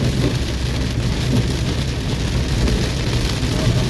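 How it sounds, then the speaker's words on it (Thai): Heavy rain pours down steadily on Road 226 in Sisaket, Thailand, a dense continuous hiss with a low rumble underneath and no voices. "บรรยากาศฝนตกนะครับ"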